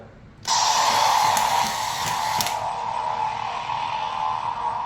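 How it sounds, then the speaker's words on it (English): A toy lightsaber's ignition: a bright electronic hum swells on abruptly, with a crackling buzzy shimmer on top, then continues as a steady humming tone. "That was the ignition sound"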